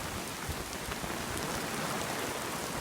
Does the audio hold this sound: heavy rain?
yes